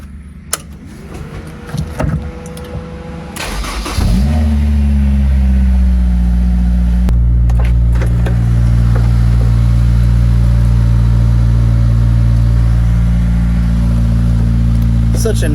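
A Honda S2000 engine cranks and catches close by, then settles into a loud, steady run with a slight lift in revs, preceded by a few clicks and handling noises.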